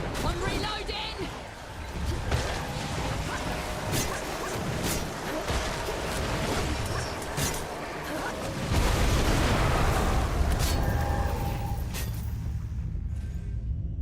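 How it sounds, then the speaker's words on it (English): Explosions and gunfire in the Flintlock video game, heavy booms and crashes layered in a busy, continuous battle din with a player talking over them, a stronger blast landing about two-thirds through. "One of the explosions blew up, threw the other one over to my left-hand side, almost killed me"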